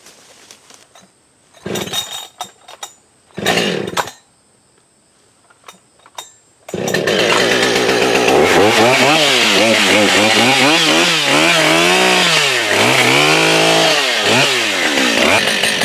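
A chainsaw with a 20 inch bar and chain bucks a tree, roaring loud and close for about nine seconds with the engine pitch rising and falling under load, after a few short bursts of handling noise.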